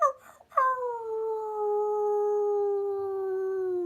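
A man imitates a wolf howl: a brief broken start, then one long, loud, steady tonal note that slides slowly downward and holds to the end, alone with no talk.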